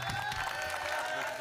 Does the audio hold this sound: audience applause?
yes